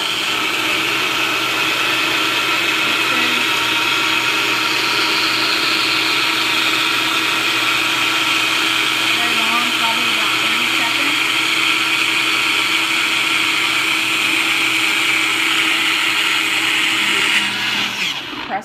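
NutriBullet blender running with its mug pressed down onto the base, a loud, continuous, close motor whine that holds steady for about eighteen seconds before cutting off.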